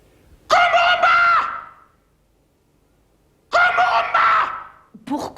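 A person screams loudly in two long, piercing bursts separated by a short silence, with another cry starting just at the end.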